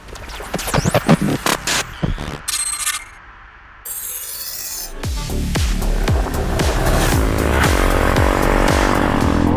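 A 2024 Jawa 350 motorcycle runs in sixth gear at speed, its engine drone and rushing wind building steadily and loudly after a brief quieter gap, with scattered clicks and rattles early on.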